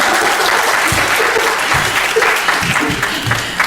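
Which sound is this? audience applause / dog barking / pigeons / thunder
audience applause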